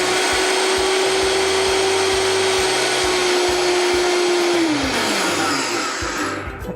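A blender pulses a batch of seeds for a vegan warm breakfast cereal, its motor whirring loud and steady for several seconds before winding down near the end, with no talking.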